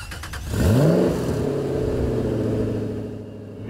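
A Ford GT's engine revs sharply, the pitch climbing quickly, then settles into a steady idling rumble, close and loud, heard alone without voices.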